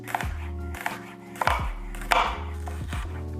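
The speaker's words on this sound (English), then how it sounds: "we're gonna cut them in slivers" Knife slicing onion halves into slivers on a cutting board, with a handful of distinct chopping strikes spaced across a few seconds, close and fairly loud, no talking.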